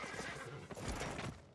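A horse neighs in the video game Albion Online, a clear whinny over a busy background of clopping and game sounds, close and moderately loud.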